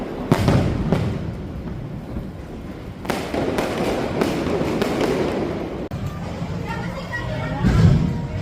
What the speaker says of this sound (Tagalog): Ang lakas ng fireworks.